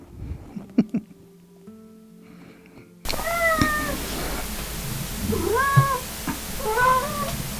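A cat meows repeatedly, with three or four drawn-out, wavering calls that follow a quiet stretch and sound close and fairly loud.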